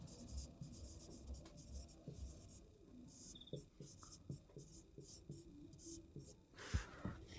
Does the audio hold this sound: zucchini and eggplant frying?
no